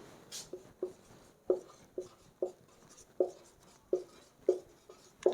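Chalk or marker strokes on a board during a maths lesson on matrices, a steady run of short, crisp scratching taps, close and distinct, about one or two per second with brief quiet gaps between.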